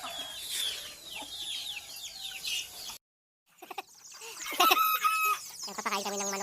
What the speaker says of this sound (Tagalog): Good morning, chicken.